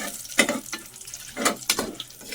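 Whole cinnamon and cloves dropped into hot oil for chicken biryani, giving a few short bursts of sizzling and spoon stirring in a quiet kitchen.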